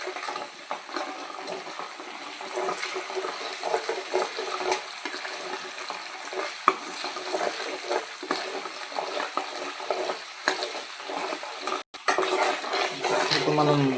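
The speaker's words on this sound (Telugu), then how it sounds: "ఒక 2 minutes మనం దాన్ని ఆయిల్లో ఫ్రై చేసుకోవాలి" Prawns frying in oil for a prawn pickle, stirred around a pan with a utensil: steady sizzle under repeated scraping and clinking of metal against the pan, close and fairly loud throughout.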